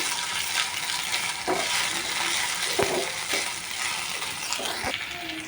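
Bottle gourd curry being stirred in a pan with curry leaves frying, a steady broad sizzle throughout, broken by a few sharp spoon scrapes and clinks against the pan.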